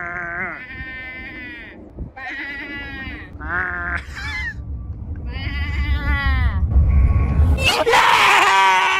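Sheep bleat loudly in quick succession, wavering nasal cries from more than one animal up close, followed by a rising rustle and scuffle of movement.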